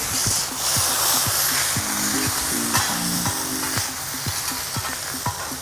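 Food sizzles steadily on a hot teppanyaki grill, a loud continuous frying hiss with metal spatula taps and clinks scattered throughout.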